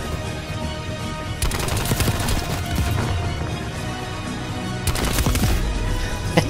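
Shotgun fire in Call of Duty Black Ops Cold War, with two bursts of sharp, rapid blasts set over a busy, steady game background, the second burst arriving a few seconds after the first.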